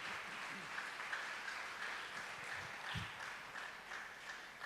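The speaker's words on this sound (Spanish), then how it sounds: "¿Por qué no les damos un fuerte aplauso? Nos damos un fuerte aplauso." A church congregation applauds, a soft, distant wash of clapping that runs steadily throughout, faint and even with no clear individual claps standing out.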